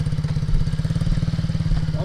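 A small MRF 80cc motorcycle engine revving under throttle, a loud, close, rapid putter with a steady pulsing beat that swells as the throttle opens.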